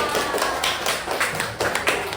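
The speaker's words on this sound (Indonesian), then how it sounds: "tepuk tangan dong buat kita semua" Schoolchildren clap hands together in a primary maths classroom, a dense, steady patter of many claps that carries on without pause and stays fairly loud throughout.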